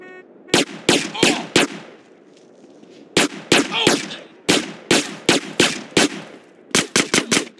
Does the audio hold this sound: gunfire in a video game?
yes